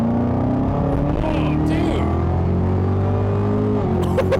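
A supercharged Camaro ZL1 with a 10-speed transmission revs hard and accelerates, a loud, continuous engine roar with rising tones and a faint blower whine. Excited voices talk over it.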